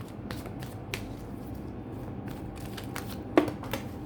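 Tarot cards riffle and slap in a steady shuffle close by, with quick papery flicks and one sharper snap near the end, no talking.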